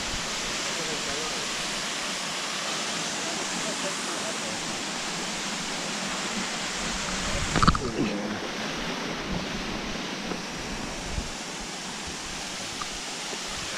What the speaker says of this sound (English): Ishi waterfall.